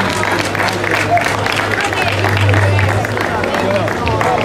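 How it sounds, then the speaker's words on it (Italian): Applause from a crowd at an outdoor car slalom prize ceremony in Oppido Mamertina, a steady wash of clapping and crowd noise running throughout beneath a low engine hum. "E chiamerei con un grande applauso alla sua prima vittoria Gabriele Romano."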